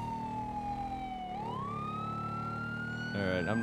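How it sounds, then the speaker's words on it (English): Police car siren in a video game roleplay, a loud wailing tone that sweeps down and then rises again under steady engine noise, with a brief burst of other sound near the end. "I'll just stop the lights and sirens"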